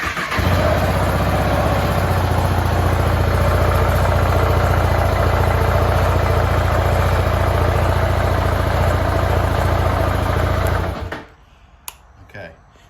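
A 2013 KTM Duke 690 motorcycle engine fires up and settles into a loud, steady idle close by, running evenly for about eleven seconds before cutting off abruptly.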